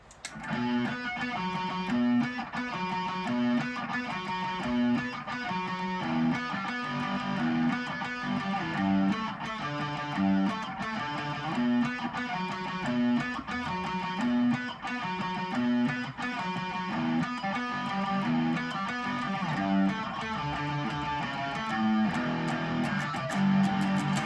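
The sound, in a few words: electric guitar playing pre-chorus riff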